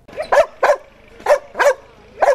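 Dogs at a police dog training club in Stiphout bark loudly and close by: five sharp, evenly spaced barks in two clusters, with no talking.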